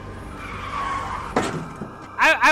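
Car tires skidding and squealing during a swerve in the video game Rabbit Hole, a short smeared screech followed by a couple of sharper squeals near the end, fairly loud with no talk over it.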